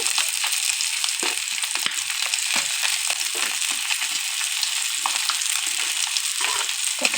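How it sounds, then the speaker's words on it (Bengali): Pangas fish and fresh porkol sautéing together in a pan: a steady loud sizzle and crackle of frying oil, close up, with scattered soft scraping and stirring sounds throughout. "মাছ পুরকল একসাথেই কষিয়ে নিলাম অল্প পরিমাণে জল দিয়ে নিচ্ছি"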